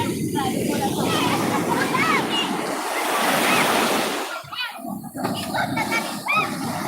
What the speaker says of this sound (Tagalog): Malaki na yung mga alon.